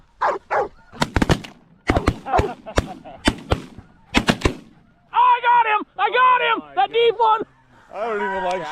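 Several sharp shotgun blasts crack in quick bursts during a spring snow goose hunt. Loud honking calls from the flock follow the shots and then continue alone.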